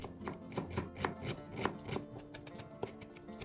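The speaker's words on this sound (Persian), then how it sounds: "یه دسته جعفری خرد کنید" A bunch of parsley is chopped with a knife in quick, irregular taps against a cutting board, close and crisp, with no talking.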